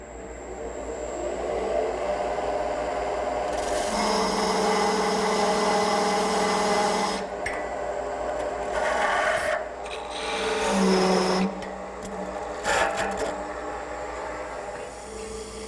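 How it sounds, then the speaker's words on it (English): A parting tool cuts into a spinning wooden Windsor chair part on a lathe, giving several rasping, scraping bursts of a few seconds each over a steady motor hum, with no talk. "And using this and my parting tool, I'll make a cut right at that transition."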